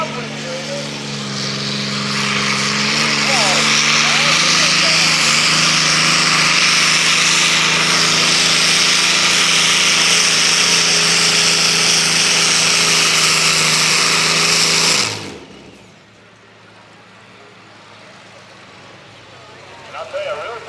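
Truck and tractor pull puller driven by a 1,710-cubic-inch Allison aircraft engine, a loud, sustained roaring drone that builds and holds for about fifteen seconds, then cuts abruptly to quieter background with a faint rumble returning at the end.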